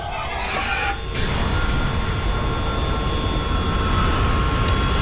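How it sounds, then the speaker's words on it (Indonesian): A video-game airship engine from Final Fantasy X HD Remaster gives a steady, loud, broad roar with whining tones above it. The drone continues unbroken from start to finish, with no voices. "Ini kan pesawat yang kita temuin waktu awal-awal"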